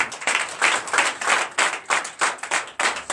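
A church congregation at a Sunday worship service claps in acclamation, a rhythmic run of about a dozen distinct, evenly spaced claps, moderately close and without talk.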